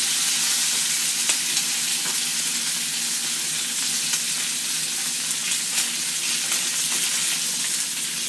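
Breakfast food fries on a stovetop with a dense, continuous crackling sizzle that holds steady and close throughout.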